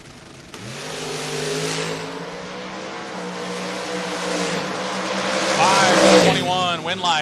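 Drag race cars, a Chevrolet Monza and a 1968 Dodge Dart, launch side by side at a Door Wars bracket event, with loud sustained engine roar rising toward the end beneath an announcer's steady commentary.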